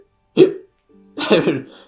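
A person imitates a hiccup with their voice, giving a short sharp gulp, then a longer voiced hiccup-like sound after a brief pause. Both are close and fairly loud.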